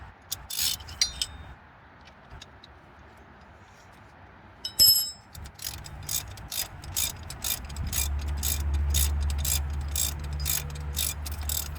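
A ratchet wrench with a 15 mm socket tightens a nut on a 2020-or-later CFMoto CForce 600 ATV during a wheel bearing and lift kit job. It gives a run of quick, close ratcheting clicks over a low background hum, with no talk.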